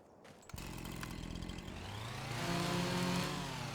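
A chainsaw in Farming Simulator 25 revs up and drones while cutting a tree, the engine pitch climbing and sustaining loudly near at hand.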